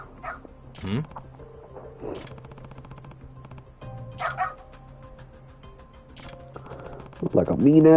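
A dog barking and yipping in the video game Lost Judgment, several short barks spread over a few seconds alongside game sounds, with a person talking over them.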